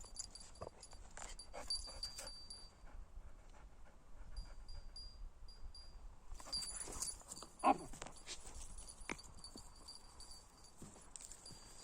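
A German Shorthaired Pointer hunting dog pants and moves about nearby during training, with scrabbling paws, jingling tags and a brief whimper, fairly quiet overall.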